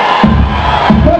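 A crowd at a Brazilian funk show shouts out together in two loud, dense bursts of massed voices, each swelling and then easing back.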